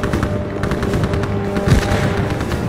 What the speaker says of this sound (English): fire full auto through the grass